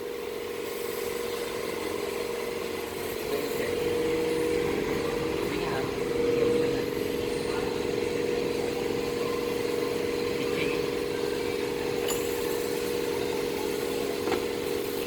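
A BMW E39 520i's 2.2-liter M54B22 inline-six engine idling steadily with a constant low hum and faint rattling, heard close up for the whole stretch.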